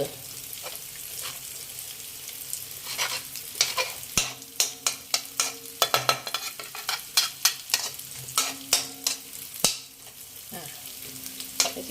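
Garlic fries in a pan with a steady sizzle, broken by a run of quick scraping stirs and clacks of a utensil against the pan, close and fairly loud, with no talking.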